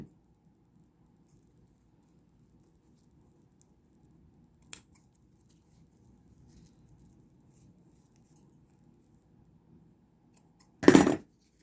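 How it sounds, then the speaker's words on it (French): Scissors make a couple of quick notching snips in fabric to mark the zipper centre on a cosmetic bag being sewn, one faint click early on and then a sharp, close cut near the end in an otherwise quiet room. "je vais juste cranter pour marquer le centre, le milieu de la fermeture éclair des deux côtés"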